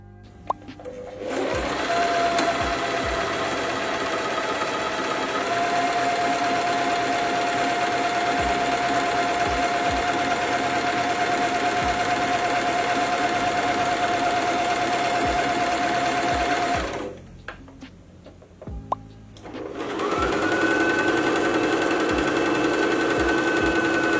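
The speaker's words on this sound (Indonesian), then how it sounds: "Nah, ini dia comparison kedua mesin jahit ini." Two sewing machines run one after the other, each a steady loud whirring drone with rapid stitching rhythm, separated by a brief pause near the end.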